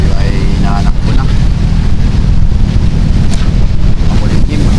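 A motorboat at sea under overcast skies: a loud, continuous engine drone mixed with heavy wind rush and splashing water, steady throughout, with faint voices in the background.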